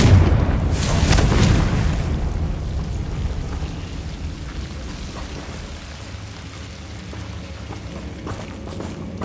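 A Confringo blasting spell detonates in Hogwarts Legacy, a loud booming burst up front with a rumbling tail that settles into a steady low roar of game ambience.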